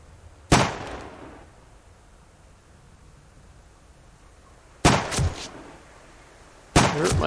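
Claymore mines go off in the survival game Subsistence: three sharp, separate blasts spaced a few seconds apart, each a sudden loud crack that fades quickly into quiet ambience.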